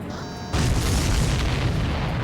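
A supply ship blowing up in the combat flight game Ace Combat 7: a sudden heavy boom cuts in after a brief electronic tone, then a dense rumbling roar sustains loudly to the end.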